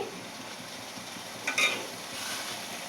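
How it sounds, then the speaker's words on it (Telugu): Egg curry being stirred in a pan, a soft scraping swirl with faint sizzling under it and one brief sharper clink partway through, close and fairly quiet with no talking. "ఒకసారి కలిపేద్దామండి."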